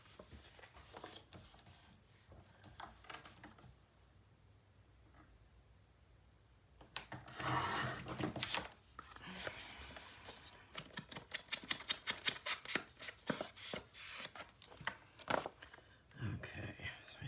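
Paper for a Stamperia Sir Vagabond in Fantasy World craft page is trimmed up close with a quick series of crisp snips and rustles, preceded by quiet handling sounds and faint whispery voice.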